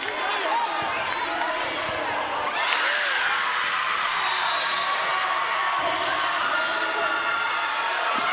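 A girls volleyball crowd at a Detroit Renaissance vs Cass Tech game cheers and shouts in a gym, a steady, loud roar of voices filling the whole stretch while commentary talks over it.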